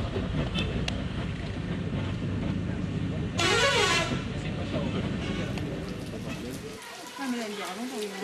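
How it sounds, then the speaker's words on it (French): Loud truck horns honk over busy traffic noise and chatter on a road in Nepal, with one sharp burst standing out before the din drops away. "Les klaxons des camions nous font parfois beaucoup rire."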